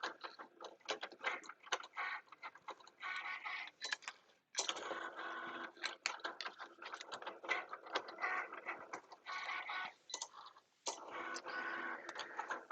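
A Cricut cutting machine at work, a quiet close run of mechanical whirring and ratcheting with rapid ticks, short pauses and bursts as the carriage moves, no voices.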